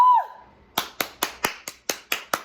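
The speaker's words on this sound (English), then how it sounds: "Round of applause, baby." A short tone fades out, then eight sharp claps follow at a steady, even rhythm, close and distinct with no other sound between them.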